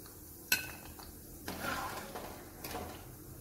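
A metal spoon clinks against a pan while roasted cashews are scooped out of hot ghee, giving one sharp clank followed by softer scraping and a second clatter, quiet and close with no talk.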